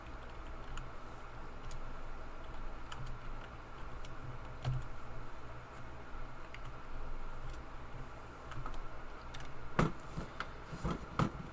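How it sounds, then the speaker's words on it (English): Steady, irregular computer keyboard typing during a live drawing stream, quick soft key clicks continuing throughout at a modest, fairly close level with no talking. "I'm having a hard time typing today"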